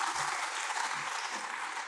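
Church congregation applauding during a Sunday worship service, a brief, dense, even roar of clapping from many hands with no voices over it.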